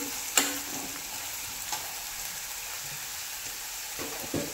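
Turmeric being stirred into hot oil for a mixed sprouts aamti, a quiet, steady sizzle with a few sharp spoon clicks against the pan.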